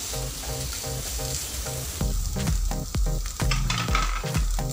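Carrot rice mixture is stirred in a hot pan, with rhythmic scraping and clattering strokes over a constant sizzle, close and fairly loud, and nobody talking.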